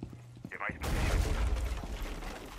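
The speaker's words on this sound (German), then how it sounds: "was sind das hier alles für Explosionen?" Rainbow Six Siege gameplay erupts into a loud, sustained barrage of explosions and rapid gunfire after a brief quieter moment, with the blasts rumbling and crackling continuously to the end.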